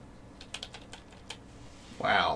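Fingers tap a computer keyboard in a short irregular burst of light clicks, close by, before a voice briefly cuts in at the end.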